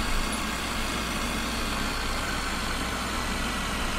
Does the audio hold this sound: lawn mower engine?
yes